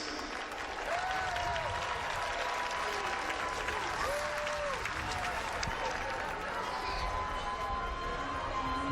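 An audience applauds athletes at the HBCU Legacy Bowl, and the steady crowd clapping fills the whole stretch from start to end, with a low murmur and some faint tonal sounds mixed in.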